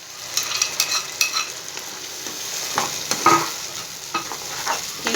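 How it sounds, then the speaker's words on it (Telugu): Tomato puree sizzling and spattering as it hits frying onions in a pan for a soya chunk curry, steady close hiss with a few stirring scrapes and sharper crackles, no talking. "ఈ టమాటా ప్యూరీ వేసుకుందాం."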